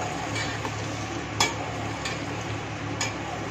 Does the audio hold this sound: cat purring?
no